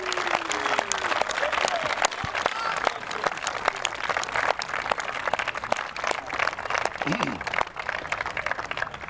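A church congregation applauds and acclaims Jesus Christ, sustained crowd clapping with cheering voices mixed in, carried at a moderate distance throughout.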